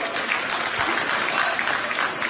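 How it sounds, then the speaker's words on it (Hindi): Dense, continuous crowd applause at an outdoor political rally closing the Chhattisgarh Nyay Yatra, a broad wash of clapping hands held steady for a couple of seconds. "उनके लिए भी एक बार तालियां।"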